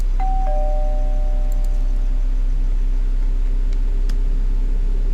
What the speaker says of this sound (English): I'm ringing the doorbell.